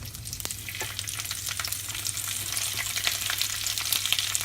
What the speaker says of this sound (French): Il faut bien tourner les haricots verts pour qu'ils touchent l'huile qu'on a mis tout à l'heure.